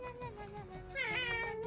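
A domestic cat meows softly and close by, with drawn-out, wavering cries that swell into a higher, more insistent meow partway through.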